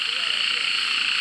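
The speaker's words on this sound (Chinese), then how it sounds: "这个是小雨蛙的" Small rain frogs call in a dense, steady chorus at a forest valley stream in Maolin, Taiwan, a continuous high trilling wall of sound with no pauses over the whole stretch.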